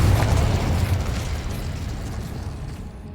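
Incendio and Confringo spell explosions from Hogwarts Legacy, a loud fiery blast right at the start with crackling bursts, then a long rumbling decay that slowly thins out.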